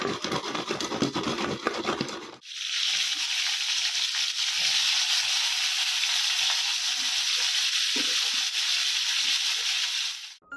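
Pointed gourd (potol) slices frying in oil in a pan, a steady loud hiss and sizzle running almost the whole time after a brief scraping, stirring start, with no talk.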